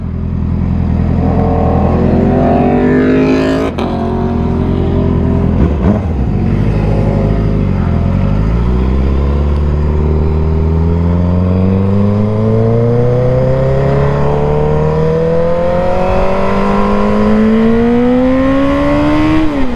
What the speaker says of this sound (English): the S1000rr does really good in the canyons